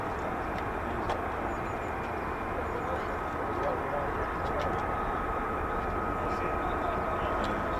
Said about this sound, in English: Sounds like I've got more F-35s taxiing.